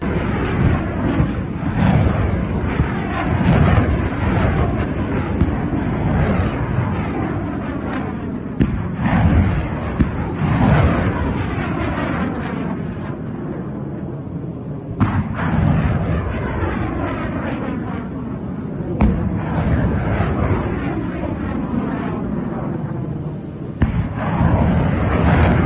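Iranian missiles launching, a loud continuous roaring rush that swells and dips with a few sharper bursts, filling the whole stretch without any talk.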